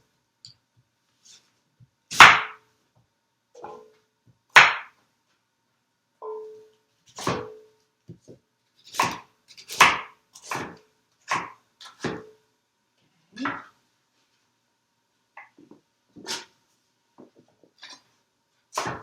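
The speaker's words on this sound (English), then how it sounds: "And chop them. And then my parsnip." Parsnip being chopped on a cutting board for cream of vegetable soup, sharp knife thuds striking the board one at a time, then in quicker irregular bursts, close and clear against near silence.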